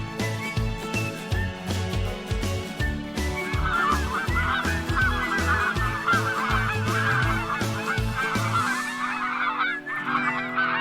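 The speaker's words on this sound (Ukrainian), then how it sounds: "Дикі гуси." A flock of wild geese honking repeatedly, many overlapping nasal calls in a busy chorus that thins out near the end.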